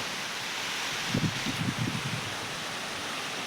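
Wind blows steadily with a broad, hissing rush of rustling leaves in Surendranagar, and a short burst of low buffeting hits the microphone midway through.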